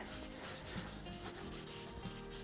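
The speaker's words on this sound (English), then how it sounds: "I'm going to give it a wipe down with denatured alcohol" A cloth rubs over turned mimosa wood during a wipe-down with denatured alcohol, a faint, soft continuous scrubbing with small rhythmic strokes and no voices.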